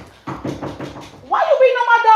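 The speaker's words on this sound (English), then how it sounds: "Why you beating on my door like that?" Someone knocks on a door in a quick run of several sharp raps, close and loud. A voice then starts talking right after the knocking stops.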